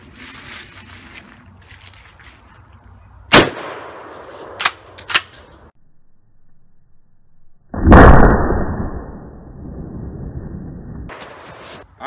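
Gunfire from a firearm shooting custom homemade wax slugs: a few loud, sharp reports spaced apart, the last one followed by a long, dense burst of noise before it cuts off.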